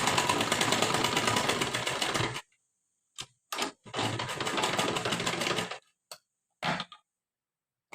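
A sewing machine stitches a lehenga blouse in two long rattling runs broken by short stop-start bursts, close and fairly loud.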